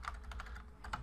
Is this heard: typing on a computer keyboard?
yes